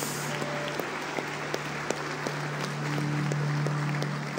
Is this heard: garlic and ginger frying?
no